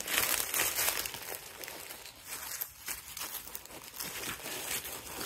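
Autumn-themed paper crinkles and rustles up close as it is handled, a continuous dry crackling with small bursts, no voices.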